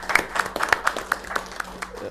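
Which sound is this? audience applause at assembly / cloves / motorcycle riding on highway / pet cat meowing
audience applause at assembly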